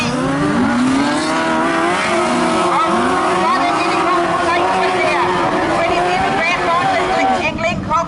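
Sidecar outfits race at Rosebank Speedway in a Trans Tasman sidecar meeting, with engines wailing and rising and falling as they pass, loud and continuous under a commentator's voice.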